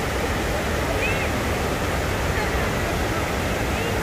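A large waterfall below a hiking trail roars as a steady, dense rush of falling water, constant and fairly loud from start to end with no pauses.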